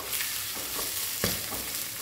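Ginger and five seeds sauté in hot oil for a fish curry, with a close, steady sizzle and crackle broken by brief stirring scrapes.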